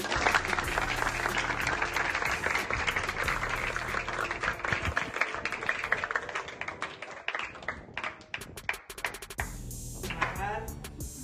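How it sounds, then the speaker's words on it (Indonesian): Children at an orphanage clap together in a dense, rattling burst of applause that thins out near the end, with voices mixed in. "Anak-anak sekalian, tepuk tangannya"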